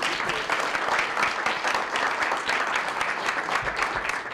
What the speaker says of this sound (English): But let's give a round of applause.